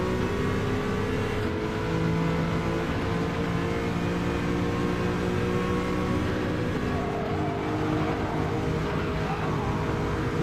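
Honda NSX race car engine in a racing video game, a steady loud drone with held revs and rich harmonic whine throughout, continuous and close with no pauses or talk.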